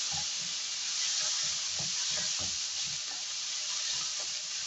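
Sausage sautéing in a pan for pancit canton, a steady close sizzle with soft stirring scrapes and light clinks throughout, no talking.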